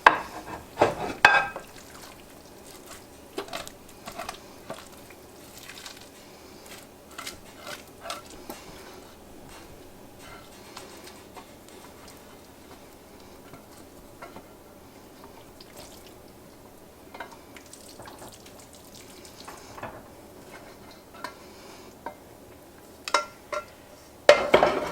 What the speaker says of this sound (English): Now I'm going to transfer it over to my casserole dish.